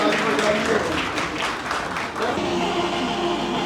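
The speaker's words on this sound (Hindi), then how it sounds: "तालियों में कमी क्यों, जोरदार तालियां हो जाए।" An audience applauds at the UP Ratan Samman 2024 award ceremony with a steady wash of clapping that fades slightly toward the end, while crowd murmur carries in the background.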